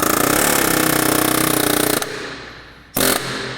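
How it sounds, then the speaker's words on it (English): A pneumatic air hammer hammers hard and continuously against a car axle being pushed in, loud and close, then stops abruptly before a second brief burst of hammering. "Because we have the fancy tools, air hammer also works."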